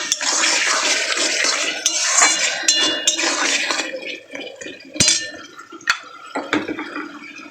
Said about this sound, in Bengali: আমি কিন্তু এবার এর মধ্যে জলটা দিয়ে দেবো